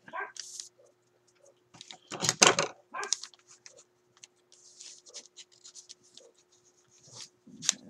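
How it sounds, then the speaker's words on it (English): Dogs next door bark in short bursts from a moderate distance, with a loud cluster in the middle and quieter scattered yelps and rustling noises around them. "The dog's next door. They're barking."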